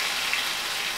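Hot oil sizzling in a pan while rajma chawal is being cooked, a steady close hiss with no pauses and no voices.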